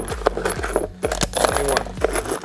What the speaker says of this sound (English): I'm cutting this cup out because I'm gonna put all these bolts in it.